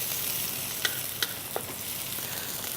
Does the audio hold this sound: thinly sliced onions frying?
yes